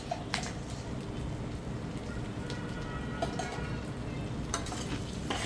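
Rice coated with masala is stirred in a pan on medium heat for khichdi, a steady scraping and stirring with a soft sizzle underneath and a few sharp clinks of the spoon against the pan.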